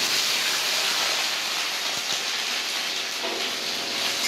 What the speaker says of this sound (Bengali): এবার আমি ওই তেলের মধ্যে পেঁয়াজের যে পেস্টটা করে রেখেছি সেটা আমি দিয়ে দেব।